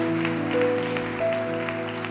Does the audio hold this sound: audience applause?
yes